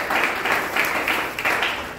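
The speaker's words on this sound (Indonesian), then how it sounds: "tepuk tangan semuanya" Church congregation clapping during a worship service, a brief burst of fairly loud group applause heard as rhythmic waves of claps.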